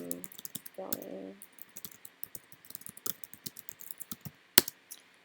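Fingers type on a computer keyboard in a quiet room, producing irregular bursts of close, crisp key clicks with short pauses and one sharper keystroke near the end, while a brief hum sounds early on.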